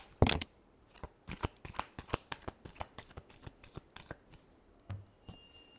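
Tarot cards are shuffled by hand in a quick run of crisp, close riffling snaps that fall into an even rhythm over several seconds.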